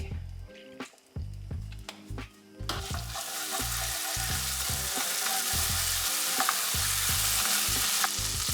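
Garlic frying in melted butter in a pan for a lemon garlic sauce: steady close sizzle that swells after the first few seconds, with low rhythmic stirring and scraping thumps throughout, no voices.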